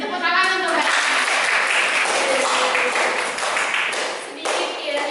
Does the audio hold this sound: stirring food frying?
no